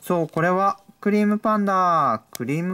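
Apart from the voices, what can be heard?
None of the usual background noises is heard.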